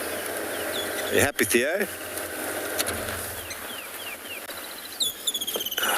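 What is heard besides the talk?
birds singing in the morning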